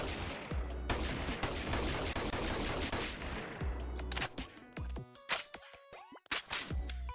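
M107 rifle firing in the video game Bonelab, bursts of heavy gunfire in the first few seconds, then scattered separate shots with clanks and metallic pings as the shooting breaks up.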